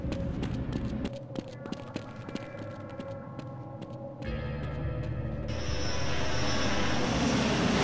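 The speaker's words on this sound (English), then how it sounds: "I was just watching the nice jet." Jet aircraft in the video game Half-Life, a roaring engine that builds and rises in loudness, especially over the final few seconds, mixed with other game sound effects.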